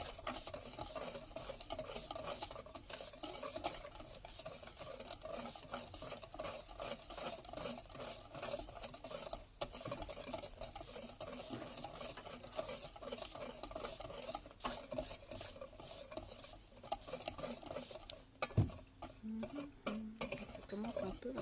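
A bath bomb mixture being stirred in a bowl until it turns sandy, with continuous close scraping and gritty rustling, light clinks of utensil against the container and occasional louder knocks.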